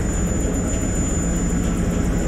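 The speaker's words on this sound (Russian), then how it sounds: "Вертолет, надо же." A helicopter in the horror video game Man of Medan gives off a loud, steady droning engine with a fast, even rotor chop pulsing through it, sustained without pause.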